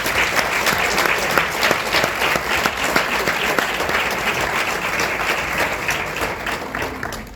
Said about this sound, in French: Je voudrais qu'on applaudisse la jeunesse.